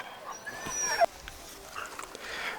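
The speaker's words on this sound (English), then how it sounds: "unless you have a dog that whines in water" A dog in water gives high, thin whines and whimpers, rising and falling in pitch over faint outdoor background noise, with one sharper yip near the middle.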